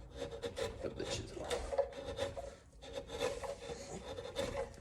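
A chisel carves the wood of a mandolin neck, giving quiet repeated scraping and rasping strokes in an irregular rhythm, close and faint, with no talk.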